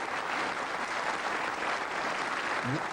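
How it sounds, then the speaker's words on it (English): Studio audience applause from a crowd, a steady dense wash of clapping that holds evenly from start to finish. "One round of applause for both."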